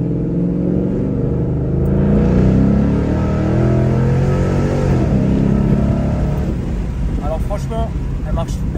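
A V8 car engine revs and roars steadily close by, its intake noise audible, with people talking throughout over the engine rumble.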